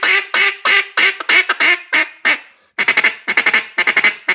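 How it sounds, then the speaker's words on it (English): Loud close quacking from a KM Outlaw Cutdown duck call with a flared keyhole, blown in two rhythmic runs of sharp, rasping duck quacks separated by a brief pause. "Easy to blow, very loud, sounds ducky."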